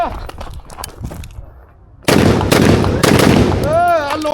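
A SIG Sauer MCX Rattler fires at a shooting range in a rapid burst of loud, close gunshots with ringing echo, following a softer stretch where a voice talks.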